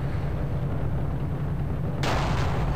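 A Panther Ausf G tank fires its cannon in Battlefield 2 Forgotten Hope 2, a single sharp blast cutting abruptly through a steady low engine rumble and leaving a brief ringing tail.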